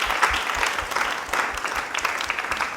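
A church congregation applauding, dense continuous clapping from a crowd at moderate distance, with little or no cheering evident.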